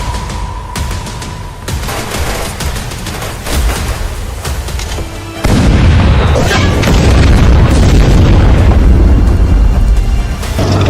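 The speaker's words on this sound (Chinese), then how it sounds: "当然是开炮！" Loud artillery cannon fire in a wartime drama battle scene, heavy booming blasts that swell into a sustained, rumbling barrage of explosions filling the second half.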